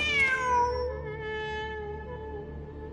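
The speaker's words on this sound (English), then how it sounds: "Wait, there it is! The cat!" A cat in a video game lets out one drawn-out, clear meow that rises and slowly fades, heard close and alone.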